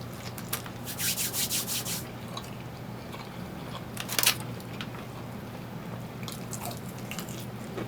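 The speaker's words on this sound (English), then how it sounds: "I don't know why I just rubbed my hands together like that." Hands rubbing together at a soul food restaurant in Paterson, New Jersey, a few quick dry brushing strokes near the start, close and fairly soft over a steady low room hum and background noise, with a brief louder rustle later.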